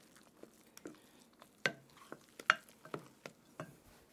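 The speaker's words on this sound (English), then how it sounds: "the egg whites are good, so those get mixed into the ground beef" Egg whites are folded into raw ground beef with a rubber spatula, making soft, wet squelches and scattered light taps against the bowl, fairly quiet and irregular with no talking.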